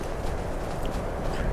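Goats walk through the Skyrim Special Edition game world, their hooves making a steady, soft clip-clop of footsteps at close range under a constant low ambient bed, with no talk.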